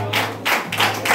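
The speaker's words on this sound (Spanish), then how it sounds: "Dale palmas para eso a Cristo Jesús." Church congregation clapping their hands for Christ Jesus during a Bible study, three short bursts of applause in quick succession, fairly close and without talk.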